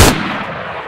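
A single loud, booming shotgun blast in DayZ hits at the start, then rumbles off in a fading echo.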